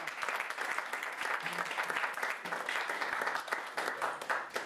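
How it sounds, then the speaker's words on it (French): Steady applause from a room of people for a Miss African Union 2014 contestant being introduced at a press conference. The clapping is dense and continuous, at moderate volume, with faint voices mixed in. "Il faut l'applaudir."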